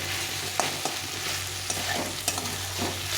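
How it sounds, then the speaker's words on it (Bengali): Fish swim bladders fry in oil in a pan with onion leaves nearby, giving a steady hiss broken by a few soft stirring scrapes, close and fairly quiet. "দিয়ে এটাকে ভালো করে ভাজতে হবে, কিছুক্ষণ ধরে সময় ধরে ভেজে নিতে হবে।"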